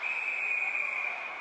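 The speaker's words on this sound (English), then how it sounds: "And you got a penalty whistled behind the play." A referee's whistle sounds for a penalty during a college lacrosse championship game, a steady, piercing tone held for over a second above faint crowd noise.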